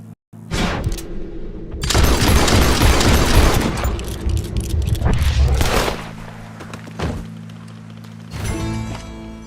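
Gunfire rings out during the circus stranger mission in Red Dead Redemption 2, loud thumping blasts and a dense burst of shots close by, with brief quieter gaps and faint voices around them.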